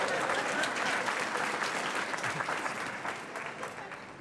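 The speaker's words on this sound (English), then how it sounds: "Now you can applaud." Congregation applauding at a Rosh Hashanah service, a steady wash of clapping from many hands that holds even and fairly loud, then thins slightly toward the end.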